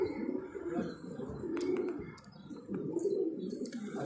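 Pigeons coo softly in a bird keeper's loft, low rolling calls repeating faintly and continuously with a few light rustles and distant background sounds.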